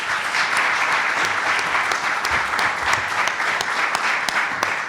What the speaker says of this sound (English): And with that, we give them a round of applause